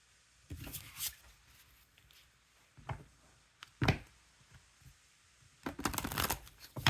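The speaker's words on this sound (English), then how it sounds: "So I'm going to shuffle them up." Cards being shuffled in several short bursts of riffling and rustling, close up, with quiet pauses between them.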